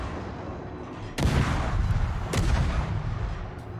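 Battleship guns in the World of Warships naval combat game fire two heavy booming salvos close by, each a sudden loud blast trailing into a rumbling roar over constant background battle noise.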